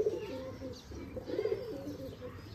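Giribaz pigeons coo in soft repeated rolling phrases nearby, a few overlapping calls with faint chirps against quiet background noise.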